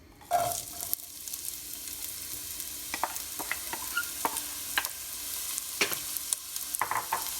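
Onion sizzles in a couple teaspoons of hot oil in a pot, a continuous close hiss broken by sharp clicks and scrapes as it is stirred, with no voices.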